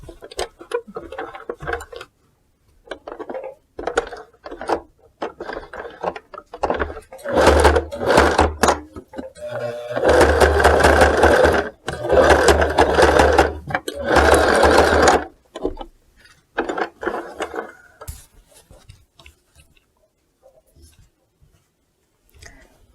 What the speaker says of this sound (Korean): 여기서부터 여기까지, 여기서부터 여기까지 박음질을 해줍니다